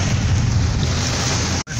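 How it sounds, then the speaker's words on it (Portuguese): Strong storm wind roars against a car during a violent downpour near the entrance to Itapura, a steady loud broadband rush that cuts out abruptly near the end. "Ó, o vento, como tá forte"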